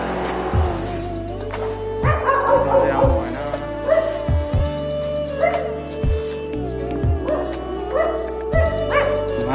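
A dog barks from somewhere above, repeatedly in short sharp bursts, moderately close, with a few yips mixed in over steady outdoor background noise.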